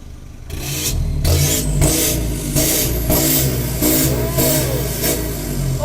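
A car engine revs repeatedly through its exhaust, rising and falling in several throaty bursts, loud and close.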